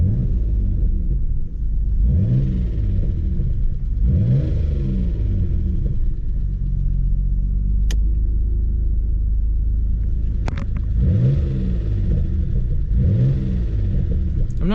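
A Mitsubishi 3000GT VR4, back on the road after many years off, rumbles deeply while driving. Its engine rises in repeated revving sweeps as it pulls through gears, with a steadier low drone between, close and loud throughout.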